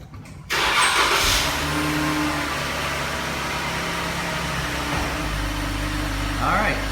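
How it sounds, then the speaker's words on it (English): A 2011-2013 Jeep Grand Cherokee engine cranks briefly and catches, then settles into a steady, close idle that holds for several seconds without revving. "We'll start up the Jeep and put her in reverse."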